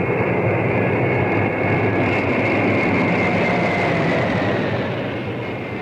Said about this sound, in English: Are they not the Mustangs? Yes, P-51s.